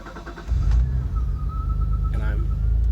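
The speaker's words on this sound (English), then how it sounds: "let's start the car." A Mitsubishi Legnum VR4 engine cranks and catches about half a second in, then settles into a steady, close rumbling idle, with a voice briefly heard.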